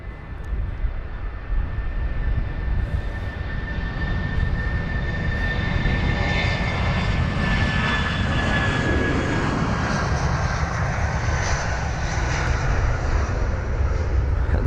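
An aircraft taking off at London Heathrow: a loud, steady engine roar with a high whine running through it, building and holding for the whole stretch, close, no talk.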